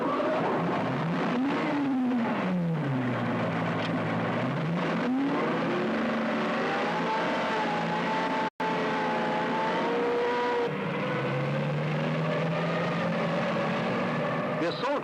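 Armoured personnel carriers and a support tank grind off together in a 1970s military exercise, a loud continuous engine roar with rising and falling pitch that fills the whole stretch, a narrator talking over it.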